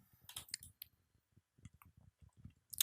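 A series of quiet, sharp mouse clicks in an otherwise silent room, irregularly spaced, some in quick pairs.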